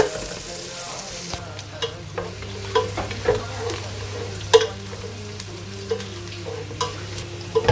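Onions frying in a pan toward light golden brown for a moong dal khichdi, a soft continuous sizzle punctuated by intermittent scraping and stirring clicks close by.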